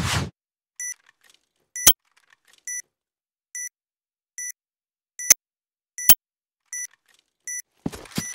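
Planted bomb in the shooter game Piercing Blow: short electronic beeps repeating at a steady pace about once every 0.9 seconds, alone and clear, with sharp clicks in between and a burst of noise at the start and end.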